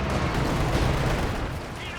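Katyusha rocket artillery barrage in Company of Heroes 2, a dense rumbling roar of rapid launches and impacts filling the whole stretch, with a voice talking over it.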